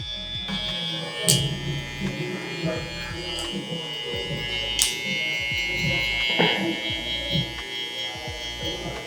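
Electric hair clippers buzz steadily during a barbershop haircut, starting with the lever closed, a continuous whine with periodic louder bursts as they pass through hair, while a voice talks over them.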